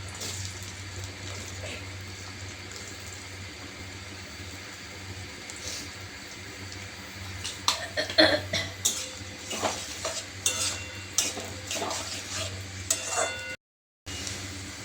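Chopped onion frying in hot oil, a soft steady sizzle beneath a low hum, later broken by louder clinks and scrapes of a utensil stirring in the pan, close by.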